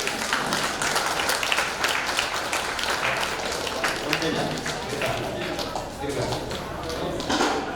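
A family association audience gives warm applause welcoming a speaker at an annual education trust function, steady crowd clapping throughout with scattered louder claps and some background murmur.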